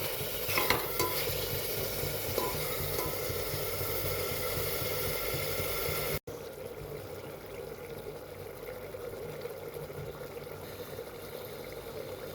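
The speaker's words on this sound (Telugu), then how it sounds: "మంచిగా ఫ్రై అవ్వాలి మటన్ అనేది." Mutton pieces fry in a pan for a home-style curry, a steady soft sizzle with a few stirring scrapes early on, fairly quiet; the sizzle drops lower after a cut halfway through.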